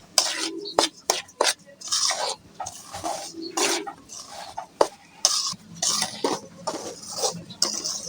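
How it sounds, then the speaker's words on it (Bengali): Semolina roasting in ghee in a pan over medium heat, stirred with a spoon that makes intermittent scraping and knocking strokes against the pan, with quiet gaps between them. "সুজিগুলোকে আমরা অল্প আছে এভাবে নেড়ে চেড়ে প্রায় দশ মিনিট ভেজে নিলাম"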